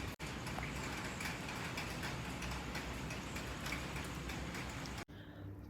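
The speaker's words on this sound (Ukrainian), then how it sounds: "Падає дощ." Steady rain falling at 4:30 in the morning in Pattaya, Thailand: a dense, continuous hiss at an even level that cuts off abruptly near the end.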